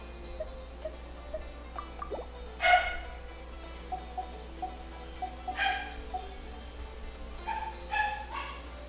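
Someone else's dogs bark in short separate bursts, a few sharp yaps and whimpers spread across a quiet background, moderately distant and not very loud.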